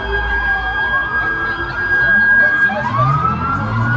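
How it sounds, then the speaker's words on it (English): Emergency vehicle sirens wail loudly and close by, rising and falling in overlapping tones over a low rumble of traffic. "That's sirens."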